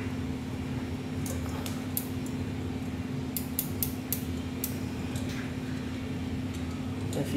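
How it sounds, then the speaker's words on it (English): An adjustable cam chain tensioner on a GY6 scooter engine clicks as it tightens, a series of small bright ticks, some in quick clusters, close over a steady low hum. "that was the adjustable tensioner tightening up to where it needed to be"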